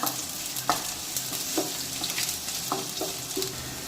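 Onions fry in hot oil while a spoon stirs them, a continuous sizzle punctuated by several distinct scraping and clacking strokes against the pan, close and clear with no talk.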